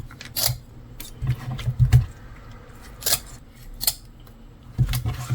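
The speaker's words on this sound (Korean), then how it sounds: "코다리는 머리 아래에 있는 이 지느러미를 잘라내는 게 깔끔해요" Scissors snipping the fins off dried pollock in a kitchen, several sharp separate snips with short pauses between them, close and clear with no talking.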